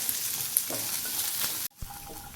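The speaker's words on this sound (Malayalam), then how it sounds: "ഒരു മീഡിയം ഫ്ലെയിമിൽ വെച്ചിട്ട് നന്നായി ഇളക്കി കൊടുക്കുക കേട്ടോ നമുക്ക് നന്നായിട്ട് ഇതിൻ്റെ കളറൊക്കെ ഒന്ന് മാറണം" Shallots, red chilies and coconut pieces stir-fry in a pan over a medium flame for a roasted chutney, a steady close sizzle with scraping stirs that cuts out abruptly near the end, then resumes more faintly.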